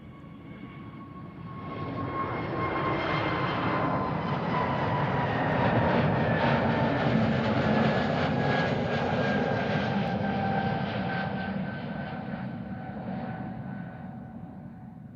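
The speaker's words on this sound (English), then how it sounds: "Early takeoff." A jet airliner takes off at Amsterdam Schiphol Airport. Its engines build into a loud, broad roar with a whining tone that swells past and then slowly fades into the distance, with no talking.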